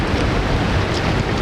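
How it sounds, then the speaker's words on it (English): River waves rush and churn while rafting the Fraser River near Valemount, a steady loud broadband wash of water and wind with no break. "Getting a few more waves."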